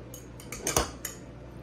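Pasta noodles tossed with sauce in a bowl, heard as a few close clinks and scrapes of utensils against the dish, with one louder clatter in the middle.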